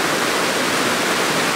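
Waterfall in the Elan Valley, a steady broadband rush of falling water that stays even and continuous at close range with no other sounds.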